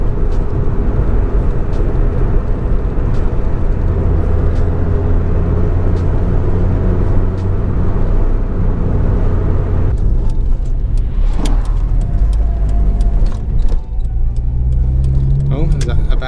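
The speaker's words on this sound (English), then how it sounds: "This car's so loud in here" Loud, steady engine drone and road rumble from inside a moving Ford Fiesta Mk5 Zetec-S, with gear-shift dips and a brief rev change partway through.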